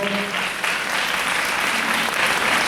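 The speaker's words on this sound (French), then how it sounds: "Les 16 membres du jury que je vous demande d'ores et déjà d'applaudir" An audience applauds the sixteen jury members at a show, dense and steady clapping that fills the whole stretch at an even level.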